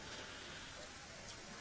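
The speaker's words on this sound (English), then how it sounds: "as the rain does intensify" Rain falling steadily on an outdoor lawn bowls green during a women's triples final at a state championship, a soft continuous broadband wash that stays even and fairly faint, with voices faintly under it.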